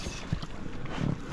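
A small boat coming in to a shore in a spring forest, with steady wind rumble and low knocks and thuds of the hull settling against the landing, close to the microphone.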